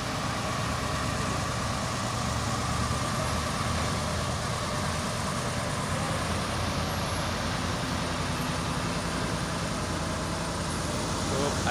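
A yellow Fuso Super Great trailer truck labours up a hill, its diesel engine droning in a steady, loud, continuous roar that swells as it revs, with constant low rumble throughout.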